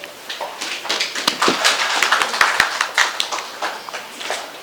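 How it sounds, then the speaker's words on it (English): Scattered hand claps from an audience of Ugandan colleagues at a sovereignty bill discussion, a few sharp separate claps over a murmuring room with some voices. "Another hand clap for Comrade Yona."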